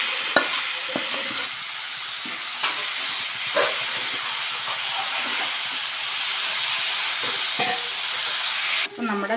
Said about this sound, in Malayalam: വേവിച്ച് വെച്ച ചക്ക എനിക്ക് ചേർത്ത് കൊടുത്തിട്ട് നന്നായിട്ട് മിക്സ് ചെയ്ത് കൊടുക്കാം.